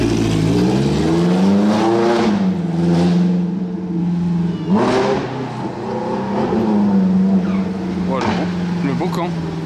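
A Ferrari F430 fitted with an aftermarket exhaust line and 458 Italia wheels drives past on a Monaco street, engine droning and rising in pitch with revs, loud and close, under people talking.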